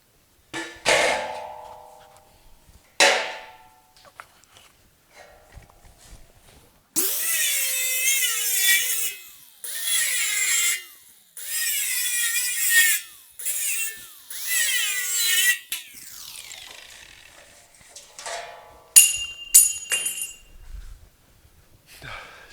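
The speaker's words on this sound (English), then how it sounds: "I just use a cutting wheel on the grinder, and I have my other hole drawn here, and we're going to cut that one out." An angle grinder with a cutting wheel cuts a hole in an outer frame. After scattered knocks and handling, several loud, harsh bursts of grinding whine follow one another with short pauses, then fade into quieter clatter.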